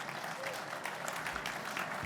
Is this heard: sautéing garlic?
no